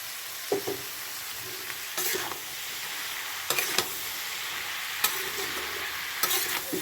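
A homemade fish head and onion curry stirred in a pan over raised heat, a soft steady sizzle broken by about five bursts of louder scraping and stirring spaced a second or so apart, without speech.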